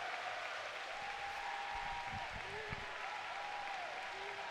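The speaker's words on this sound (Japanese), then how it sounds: "さあ歓声上がっております。" A large arena audience at the Evo 2024 fighting game tournament cheers and applauds during the awards ceremony, a steady wash of crowd noise with bursts of clapping, heard from a distance under faint commentary.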